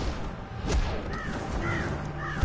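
Crows cawing in a DC Universe video game: a few rising, drawn-out caws repeat at a steady pace over a dense rumbling game background, with a couple of dull thumps.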